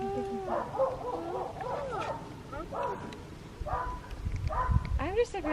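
Dogs barking and yelping at a moose in the Alaskan woods, a run of sharp barks and higher whining yips at middle distance, growing louder and busier toward the end, with people talking over them.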